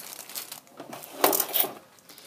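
A plastic bag in a home kitchen being pressed flat and sealed, making irregular crinkling and rustling bursts of plastic, fairly faint and close, with one sharper crackle in the middle.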